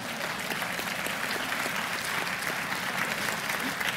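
A church congregation claps during a live sermon, a sustained, evenly dense applause at moderate distance with no break or talking over it.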